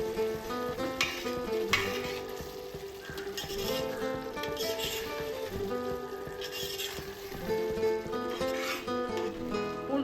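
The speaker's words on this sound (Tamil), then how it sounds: "நம்ம அரைச்சி போட்டதுனால கொஞ்சம் கைவிடாமல் கிளறலாம்." Ground garlic paste frying in a heavy pan while being stirred, a steady sizzle under repeated scraping strokes of the spoon, close and moderately quiet with no talk.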